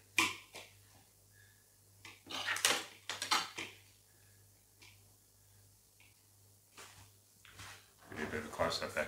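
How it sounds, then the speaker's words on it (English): A spoon stirs pasta salad dressed with vinaigrette in a bowl, making scattered clinks and scrapes in short bursts. A person speaks between and over the stirring sounds. "And, give it a stir."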